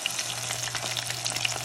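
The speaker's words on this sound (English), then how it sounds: "when you're frying okra" Okra sizzling and frying in a hot pan, a steady dense crackle with small pops throughout, close and continuous with no talking.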